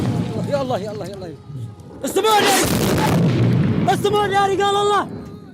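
Saudi airstrikes hit a separatist camp in southern Yemen, and heavy explosions boom and rumble through the scene. Voices shout and cry out loudly over the blasts and before and after them.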